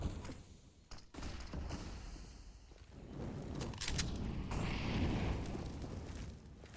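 Grenades bursting in a Counter-Strike match on Inferno, several muffled booms and pops landing in quick succession, with footsteps and game noise around them at moderate loudness.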